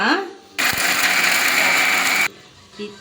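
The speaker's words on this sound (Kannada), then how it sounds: "ಇವಾಗ ಇದನ್ನು ರುಬ್ಕೊಳ್ಳೋಣ." A mixer grinder whirs loudly in a steady burst for about two seconds, grinding ingredients in its jar for a chops recipe, then cuts off abruptly, with quiet room sound before and after.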